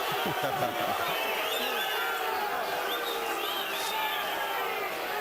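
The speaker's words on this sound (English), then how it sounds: "Marquez fans booing Vargas for losing the mouthpiece" Boxing crowd at a 1999 fight between Fernando Vargas and Raul Marquez, Marquez fans booing Vargas after he loses his mouthpiece; a steady, dense roar of arena noise fills the hall throughout, with commentary voices talking over it.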